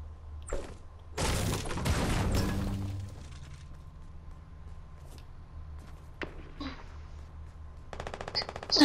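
Gunfire from the video game Fortnite: a dense burst of shots around the first few seconds, followed by scattered fainter pops and a closing rattle, with a faint voice in the background.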